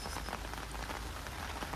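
Steady rain falls in a garden, a dense, even patter on surfaces close by. It holds at a moderate level the whole time with no voices over it.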